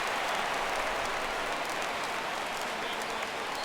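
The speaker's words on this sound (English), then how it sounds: "Crowd gets up for the 3-2." Stadium crowd noise in MLB The Show 17 as fans rise for a full 3-2 count: a steady, dense roar of cheering and clapping filling the whole clip at constant loudness, with no talk over it.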